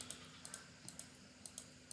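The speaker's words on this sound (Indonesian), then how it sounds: "Kemudian tekan OK atau enter di keyboard." Sharp key clicks on a computer keyboard while working in Microsoft Excel, an uneven run of about eight close taps with brief gaps and no talk.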